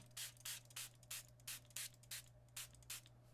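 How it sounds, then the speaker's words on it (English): About a dozen quick hissing spray bursts from a spray bottle onto a Galaxy S24 Plus screen protector in a steady rhythm, fairly soft and close, with a faint hum underneath. "Now spray off the bottom part of your screen protector."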